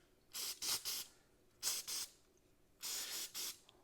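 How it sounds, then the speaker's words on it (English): Brake parts cleaner is sprayed onto the oil drain plug of a Mazda MX-5 Miata NA 1.6L during an oil change, in three close groups of short, hissing squirts separated by brief pauses. "I'm going to take a little brake parts cleaner and just give it a little squirt here."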